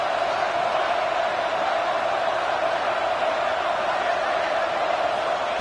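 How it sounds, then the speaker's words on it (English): Fired-up football stadium crowd at an Oregon game, a steady and unbroken roar of many voices that holds at an even, loud level for the whole stretch. "this crowd is fired up. Listen to this noise here."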